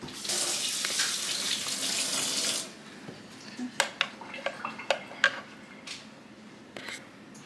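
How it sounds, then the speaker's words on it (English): Running tap water streams loudly into a kitchen sink while a utensil is rinsed, then the flow stops and a few close clinks and clatters of the utensil and dishes follow. "Let me wash this real quick."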